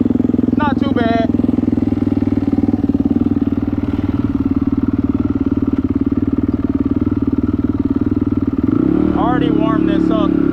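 A turbocharged dirt bike engine runs hot at a steady, loud, throbbing idle, with a short burst of revving near the end and voices talking over it.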